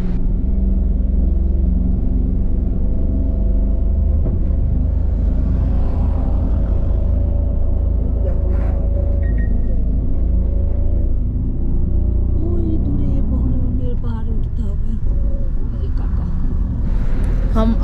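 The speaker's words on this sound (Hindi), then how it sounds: "बर्फ के ऊपर गाड़ी चलाना बहुत ही मुसीबत है" A car climbs a snowy mountain road toward Chang La pass in Ladakh, its engine droning and rumbling steadily close by, with tires crunching over the snow and people talking over the noise.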